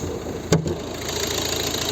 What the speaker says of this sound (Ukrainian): подивимося, як працює наш двигун